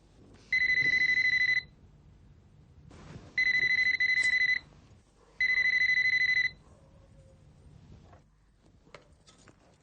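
Telephone ringing in a home, three long electronic ring bursts separated by pauses, loud and close with no talking over it.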